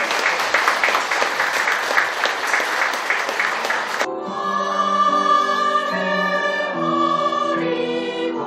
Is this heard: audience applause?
yes